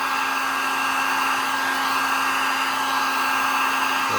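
A heat gun runs on a chemically melted plastic Waverunner jetski glove box cover, a loud, steady, close whooshing blower hum with no voices.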